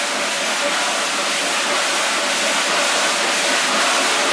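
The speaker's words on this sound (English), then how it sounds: "Now grab hold of something as we get up to speed inside the cab of this 1911 Baldwin steam locomotive" Steady loud rushing roar inside the cab of a 1911 Baldwin steam locomotive getting up to speed, a dense continuous hiss and rumble with no pauses or talk.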